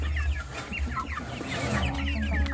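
Chickens cluck repeatedly in a close, busy farm setting, with overlapping short calls over a steady low background hum and no talk.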